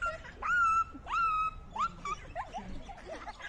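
A child imitates a small dog with three high, whiny yelps in a row, then breaks into softer squeaky whimpering sounds toward the end, close and clear.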